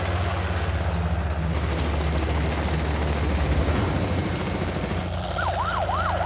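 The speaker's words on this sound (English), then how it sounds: "I can hear the helicopter right at the mouth of the boma." Helicopter rotor thudding nearby at a boma on the savanna during a giraffe relocation, with a low pulsing drone, then a wailing siren rises and falls toward the end.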